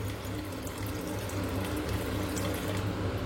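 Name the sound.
water being poured for sugar syrup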